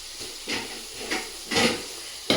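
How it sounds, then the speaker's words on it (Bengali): Spices for chicken khichuri fry in a pan with a soft, steady hiss, swelling into several brief sizzling surges as they are stirred, near and moderately quiet. "এই তো এইদিকে আমার মশলাটা কষানো হয়ে গেছে।"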